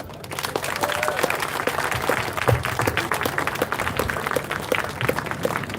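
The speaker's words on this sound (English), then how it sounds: "You can give her a bigger round of applause than that." Audience at a steel pan cultural evening claps steadily, a dense run of individual hand claps close by, moderately loud and sustained without a break.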